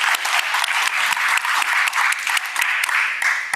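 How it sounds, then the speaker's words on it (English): A room claps for panelists at a water-supply seminar, brisk and even applause from a modest crowd, close and continuous throughout with slight pulsing. "please join me in giving a round of applause to our panelists"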